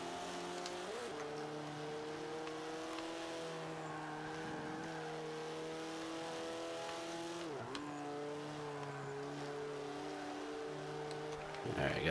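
Race car engines in Forza Motorsport 5, a multiplayer A-class race with an X-Bow, drone steadily with rising and falling gear pitches and a few sharp shifts, while someone talks over the game.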